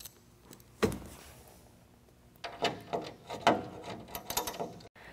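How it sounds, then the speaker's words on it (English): An Allen wrench tightens bed slide hardware on a 2012 Ford F-150 truck bed, giving a sharp metallic click followed by a quiet pause and then a run of close ratcheting clicks and scrapes. "we want to go back with the Allen wrench and tighten it all down"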